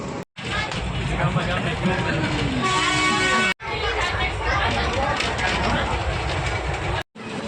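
A passenger train running toward Porbandar in the rain gives a steady, loud rumble with rail clatter, while people chatter throughout and the sound breaks off briefly twice.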